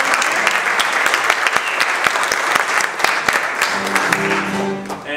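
Steady audience applause fills a church hall after a folk singer's final song at a Lutheran church concert, dense and continuous throughout, with a voice briefly speaking over it near the end.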